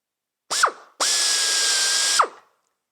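A power drill bores a hole for a solid rivet, with a short trigger blip and then a steady high whine lasting over a second that ends as the motor spins down, close and loud with no voices.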